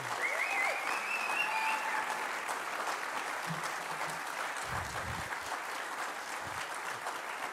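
An audience at a machining apprenticeship graduation keeps up sustained applause for the graduates, fairly quiet and even, with a few faint whistles and brief low thumps beneath it.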